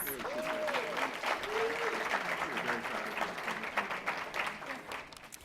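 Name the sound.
audience applause for graduates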